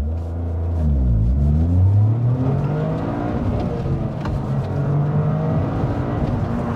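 A 2023 Toyota GR Corolla launches from a standing start, its engine revving hard through rising gear pulls with a short dip at a shift, a loud close-up rumble heard from inside the car, with no talking.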